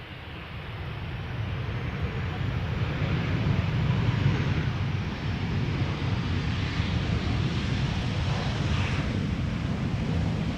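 A Transavia Boeing 737-700 returning from Innsbruck at Amsterdam Schiphol gives a sustained, distant jet roar that rises and holds for several seconds, blended with wind buffeting on the microphone.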